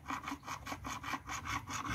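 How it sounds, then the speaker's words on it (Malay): Rough, cyclic grinding comes from a worn clutch release bearing placed under load: a steady scraping rasp repeating several times a second, up close and with no voices. "Bila saya tarik sedikit macam ni, dia ada bebanan, dia akan berbunyi."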